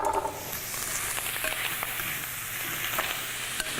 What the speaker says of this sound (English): I'm going to go ahead and throw our onions and garlic in there.